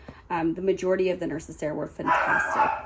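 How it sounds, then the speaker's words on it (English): Two little dogs bark and yip in a home, sharp small-dog barks breaking in near the end while someone talks steadily over them. "Sorry for the dogs. I have 2 little dogs that you guys know about."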